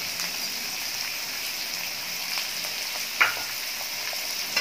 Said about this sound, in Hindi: अब इसको बाकी जो है हम लोग प्याज के साथ इसको करेंगे फ्राई।